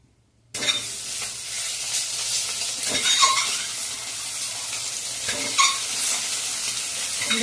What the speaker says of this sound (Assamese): কেৰাহীখন গৰম হ'ল, মই কণীকেইটা এফালে ভাজি লওঁ